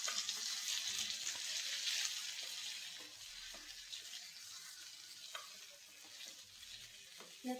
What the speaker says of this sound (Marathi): हळद टाकून छान परतून घ्यायचं।